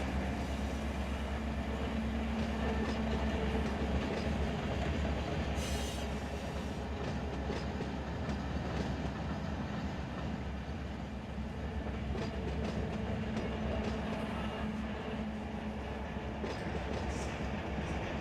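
A freight train in the Run 8 railroad simulator pulling cars through a yard, with a steady low rumble, rolling wheel noise and occasional faint squeals throughout, continuous and close with no talking.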